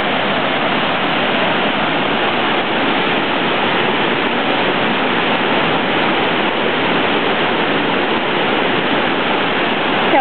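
Floodwater cascades over a road during a 2009 flood in Acworth, Georgia, as a loud, continuous, dense rushing roar that holds steady throughout, with no talking.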